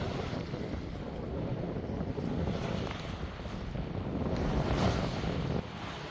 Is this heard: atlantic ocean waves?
yes